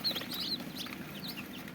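Tiger and Egyptian Fayoumi chickens cluck and chirp steadily on a poultry farm over a constant background hum, with several birds calling at once nearby.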